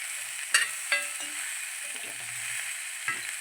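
Tomatoes fry in a pan for a neem-flower tamarind curry, a steady close hiss of sizzling oil broken by a few light clicks and stirs.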